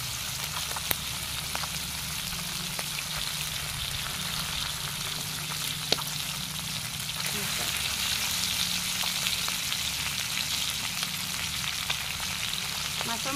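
Singi fish frying lightly in a pan gives off a constant soft sizzle and crackle, fine spatter running evenly throughout with a couple of faint clicks and no talking.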